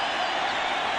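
Baseball stadium crowd at a 1996 World Series game between the Atlanta Braves and New York Yankees, a broad, steady roar of cheering and applause filling the air without a break.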